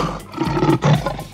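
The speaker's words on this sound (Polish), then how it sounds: "L. Lew." A lion roaring in a children's cartoon alphabet lesson, heard as a loud, close, rough growling roar that swells twice in quick succession, alone without talk.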